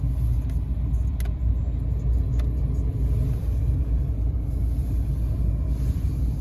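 A Fiat Abarth 595 in sport mode idles with a steady, low, rumbling engine note, close and continuous, with no talk.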